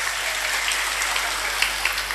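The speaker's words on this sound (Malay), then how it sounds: "tepuk tangan" Audience applause at a religious sermon, a steady crackle of many hands clapping at moderate volume across the whole moment, with no talk over it.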